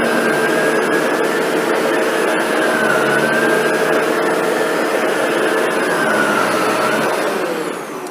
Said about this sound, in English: We're going to take the Shark NV752 and we'll run that by this group of Fruit Loops here